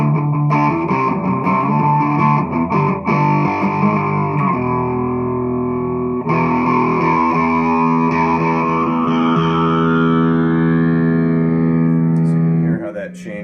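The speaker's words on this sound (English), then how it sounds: "the bonus knob acts as more of a filtering effect, which sounds really cool with the fuzz as well" Fuzzy distorted electric guitar notes through a phaser filter effect with a sweeping filtered tone, loud and sustained, played in phrases that ring out and shift in timbre.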